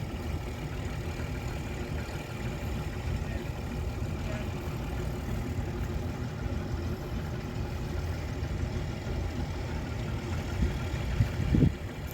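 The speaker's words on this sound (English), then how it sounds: "Perkins 6354 turbo engine and should be 120 horsepower" A Massey Ferguson tractor with a Perkins 6354 turbo engine, rated at 120 horsepower, idles at a farming show in Somerset. It gives a continuous low, rumbling drone with a gentle throb that holds steady from start to finish.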